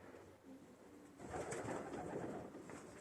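Soft, low pigeon cooing in a quiet space, steady muffled rumbles of several birds without any talking.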